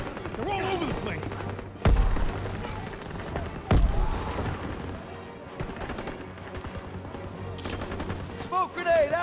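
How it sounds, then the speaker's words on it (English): Machine gun fire in a Call of Duty WW2 campaign battle: sustained rattling bursts punctuated by two heavy booming shots, with explosions and shouted voices mixed in, loud and close throughout. "MG's on the stairs."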